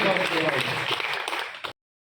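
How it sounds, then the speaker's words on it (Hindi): Applause from a crowd at an outdoor village election rally in Haryana, cheering for Akash; dense, steady clapping that stops abruptly after under two seconds, with talk mixed in. "हमारे साथी आकाश भाई के लिए भी जोरदार तालियां"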